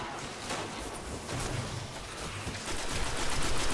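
Steady distant gunfire in Destiny, a team shooting at shielded enemies in a strike mission, a dense continuous crackle of shots blended with a constant game noise bed, slightly louder toward the end.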